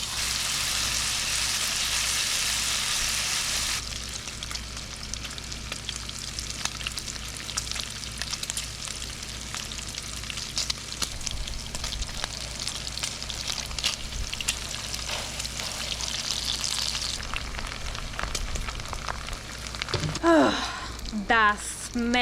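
Bacon pieces sizzle in a little hot oil in a pan for taco filling, a continuous crackling fry with occasional stirring and a speaking voice over it.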